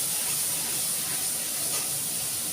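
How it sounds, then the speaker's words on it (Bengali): Spice masala fries in a pan for a curry of yogurt fish with potato and eggplant, producing a constant hissing sizzle close up, with no talk. "মশলাটা দিয়ে দিলাম, মশলাটা কষানো হচ্ছে।"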